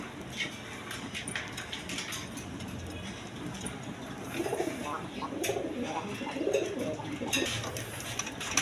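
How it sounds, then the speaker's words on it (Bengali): Soft, low coos from a pair of pigeons at a pigeon farm repeat on and off over a faint background hum, with occasional light rustles and clicks nearby. "এখানে এক পেয়ার বাঞ্জা কবুতর আছে"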